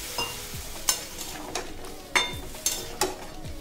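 Fried eggs get stirred into a spice mixture in a pan, with a quiet sizzle under a handful of sharp spatula scrapes and taps. The strokes are spaced irregularly and heard close up.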